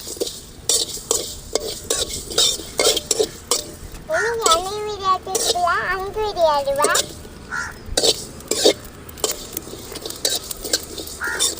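Cumin seeds fry in a pan for garlic pepper kuzhambu while a spoon scrapes and clacks in quick irregular strokes over a soft sizzle; a voice speaks briefly midway.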